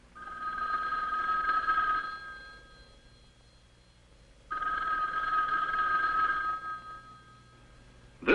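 A conventional telephone on a general farm rings twice, each long electric bell burst clear and close, separated by a few seconds of quiet, with a brief click at the end.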